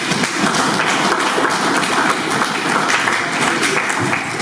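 A church congregation applauds, with dense, steady clapping from many hands that fills the room and holds evenly throughout.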